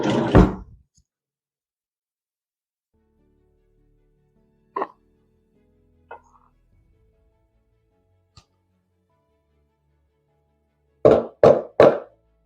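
A spoon scraping chicken roll-up ingredients out of a container in a home kitchen: a few sparse, isolated knocks and clunks separated by quiet, then three quick thuds in a row near the end.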